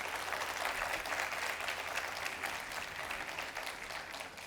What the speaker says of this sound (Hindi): एक बार जोरदार तालियों से हमारी संभाजी नगर की तालियां होनी चाहिए